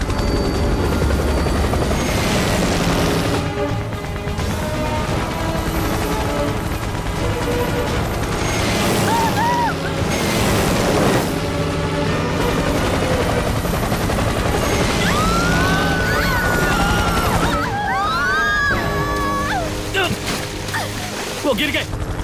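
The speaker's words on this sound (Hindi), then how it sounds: "हेलीकॉप्टर ऊपर लो, हेलीकॉप्टर ऊपर लो।" Helicopter hovering over water during a rescue, with a loud, steady rotor roar filling the scene throughout, mixed with sloshing and bursts of chaotic noise.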